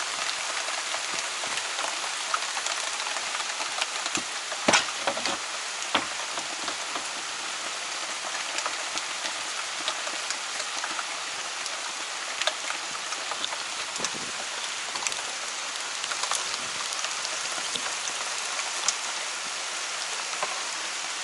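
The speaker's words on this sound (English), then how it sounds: "It's decided to rain on us." Steady rain pattering on a surface, dense and continuous with scattered louder drops, close by and without voices.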